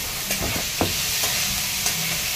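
Chilli, tomato and coriander sautéing in a pan for varan, a constant sizzle broken by a few soft stirring scrapes, close and alone.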